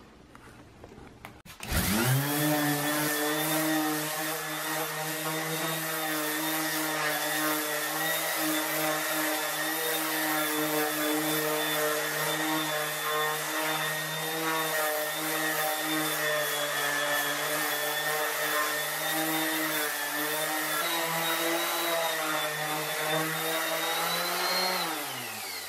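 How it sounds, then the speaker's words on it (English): DeWalt orbital sander with 180-grit 3M sandpaper working a wood floor, starting up after a short pause and then running as a steady, loud, even whine that holds for over twenty seconds with no talk. "going to go ahead and sand it down with an orbital sander"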